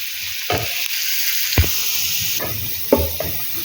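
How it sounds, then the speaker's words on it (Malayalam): Onion, green chilli and curry leaves are sautéed in a pan after mustard seeds pop, for ragi vermicelli uppumavu. A steady, close hiss of frying runs throughout, broken by a few soft scraping stirs. "കടുക് പൊട്ടി വരുമ്പോഴേക്ക് സവാള, പച്ചമുളക്, കറിവേപ്പിലയും ചേർത്ത് ഇതൊന്ന് വഴറ്റിയെടുക്കണം."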